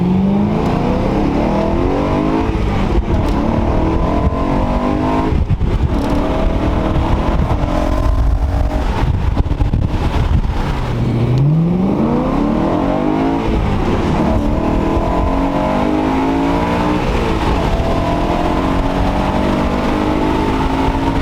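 BMW E92 M3 engine on the stock exhaust revs repeatedly, rising and falling in pitch with a throaty exhaust drone, loud and close, with a sharp climb midway.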